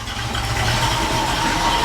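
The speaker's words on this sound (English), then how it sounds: "now it's idling kind of more normal" A 1955 Chevy Nomad race car engine idles steadily up close, a rough, even rumble with no voices over it.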